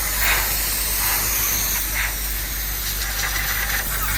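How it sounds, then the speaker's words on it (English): Cleaner sprayed inside the engine bay of a Mercedes-Benz 450SLC, a loud, continuous close hiss with a few stronger spray pulses, heard alone without talk. "we got the sim cleaner in action because we don't want to soak up the engine stuff"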